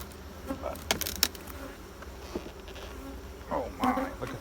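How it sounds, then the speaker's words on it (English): Honey bees buzz around an opened, honey-filled beehive with full supers, a steady close swarm drone with louder passes and bursts as individual bees fly near. "oh my, look at the bees"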